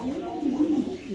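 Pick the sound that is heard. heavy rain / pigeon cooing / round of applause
pigeon cooing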